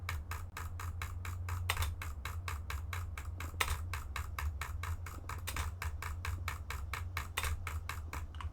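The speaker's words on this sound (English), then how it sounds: "What works best for me is hitting the spacebar a little bit before you drag click." Computer keyboard spacebar taps and mouse drag-clicking during Minecraft godbridging, a rapid, very regular stream of light clicks with occasional heavier keystrokes over a low steady hum, close and fairly quiet.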